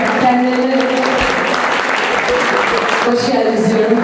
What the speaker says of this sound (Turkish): Kocaman alkışlarımızla kendilerine